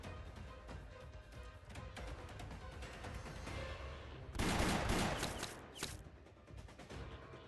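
Burst of gunfire from a volley in the video game Arknights, a sudden loud crackling blast about halfway through with a second short crack after, over a dense busy game soundtrack.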